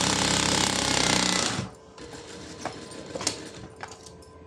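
A sewing machine runs a back stitch on a blouse, a dense steady mechanical whirr for about a second and a half that stops abruptly, followed by quieter handling clicks and rustles.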